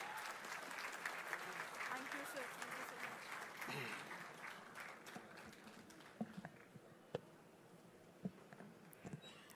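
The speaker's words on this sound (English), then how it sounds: "I request everyone, give a huge round of applause." Applause from an audience at a political gathering with Nara Lokesh in Nellore, Andhra Pradesh, broad and steady at first, then thinning out into a few scattered claps, with voices mixed in throughout.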